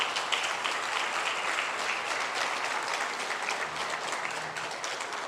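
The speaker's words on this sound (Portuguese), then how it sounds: "Você pode aplaudir o nome de Jesus?" A church congregation claps for the name of Jesus during a Quadrangular service, a dense, steady wash of applause filling the room for several seconds at an even level.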